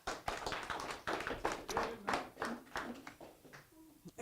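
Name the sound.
audience applause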